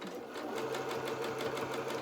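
A sewing machine stitches down the side of a felt doll's duffle coat, a rapid, even mechanical whirr with a steady rhythmic needle beat, close and alone.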